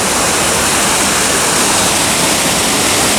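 High water pouring over a waterfall at a lock and dam, a loud, steady broadband roar with no pauses, close by and drowning out everything else.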